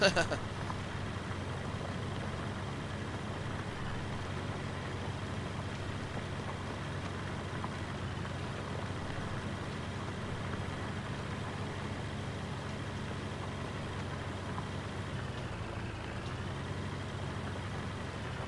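Tractor engine in Farming Simulator 19 on the Erlengrat alpine map, a steady low idling rumble that holds evenly for the whole stretch, fairly quiet, with faint murmured talk over it.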